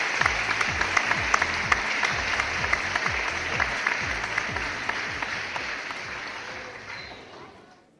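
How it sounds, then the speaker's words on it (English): A conference audience at a digital technology event gives a warm round of applause as a speaker walks on stage, with steady clapping that slowly fades out toward the end. "Please join me in welcoming him on stage with a warm round of applause"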